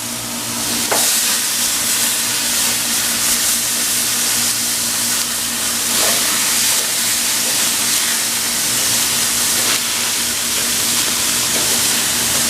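Pork chops sizzle on a grill with a steady, bright hiss of fat and juices, broken now and then by small pops and crackles, close and continuous throughout.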